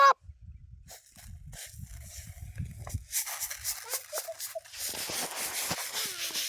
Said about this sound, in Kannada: ಕೋಳಿಗಳು ನೋಡ್ರಿ ಎಲ್ಲ ಜೋಳಗಳು ಬಂದು ಹೆಂಗೆ ತಿನ್ನಗುತ್ತವ್ರಿ